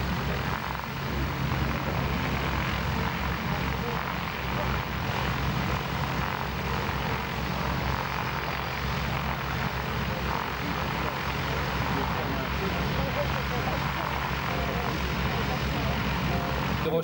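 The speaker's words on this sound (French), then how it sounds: "le T-28 il est là-bas, tout au fond, et il va se poser gentiment" A T-28 propeller plane landing at an air show at Darois in 1996, heard as a steady distant engine drone over a continuous crowd and wind wash that lasts the whole time.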